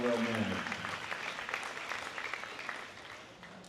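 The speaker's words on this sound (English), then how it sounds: "You will give yourselves a round of applause" A crowd claps at a market steer cattle show, moderately loud at first and then gradually fading, with a brief voice at the start.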